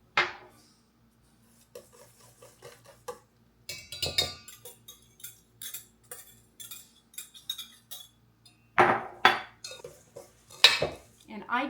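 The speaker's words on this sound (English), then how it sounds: "I'm going to get that all stirred together" A utensil stirs carnivore cookie batter made with collagen powder, salt, vanilla, melted butter and sweetener in a bowl. It gives bursts of close scraping and clinking against the bowl, separated by short pauses.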